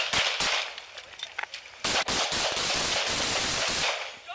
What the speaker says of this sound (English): Two LAPD officers conducting a traffic stop when they hear gunfire